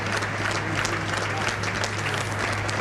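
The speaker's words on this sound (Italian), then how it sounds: "Un lungo applauso ancora" Sustained applause from a crowd outside a church as guests leave a funeral, a dense even patter of many hands, steady and moderately distant.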